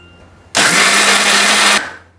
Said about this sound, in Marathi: आता मी वाटून घेते मिक्सरला